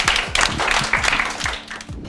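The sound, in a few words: clapping applause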